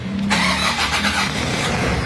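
A diesel vehicle is started with a key: a brief cranking whir catches into a loud running engine that settles into a rough, steady idle, with no talk.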